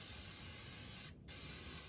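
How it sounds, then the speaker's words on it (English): Pam cooking spray hisses onto a camp stove in a short, close burst of aerosol that stops briefly near the middle and then resumes as a steady spray, with no talking. "They say that if you spray some Pam on here, it protects the stove."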